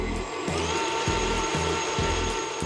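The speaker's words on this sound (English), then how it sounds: "Using the whisk attachment, whisk butter into peanut butter." An electric mixer with a whisk attachment whips butter into peanut butter in a bowl, a loud steady motor whir with rhythmic thumps as the whisk knocks around, close and continuous.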